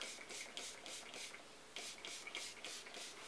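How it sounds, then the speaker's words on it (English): Leave-in conditioner sprayed onto hair from a pump bottle, about nine quick hissing spritzes in two rhythmic runs with a short break between, close and soft. "So you just spray that on,"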